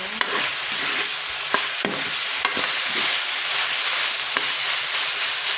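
Onions frying and browning in a pan for a turnip and potato curry, a steady close sizzle broken by a few sharp clicks of a spoon stirring against the pan.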